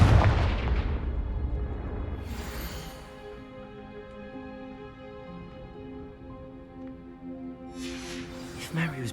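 A Confringo spell explodes in Hogwarts Legacy in a cellar, a sharp booming burst at the start that decays into a ringing low rumble and tonal hum, with brief crackles later on.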